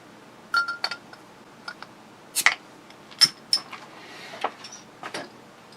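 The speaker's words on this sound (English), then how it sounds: "I'm going to open it up with Brad's tool" A bottle of Founders Breakfast Stout, a double chocolate coffee oatmeal stout, is opened with a metal opener, giving a string of sharp, scattered clinks and ticks close by in a quiet room.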